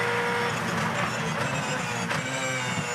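A Repco Supercar engine pulls hard out of turn 1 at Bathurst during the 1000 top ten shootout, a loud, continuous roar that holds steady and swells slightly as the car climbs the hill.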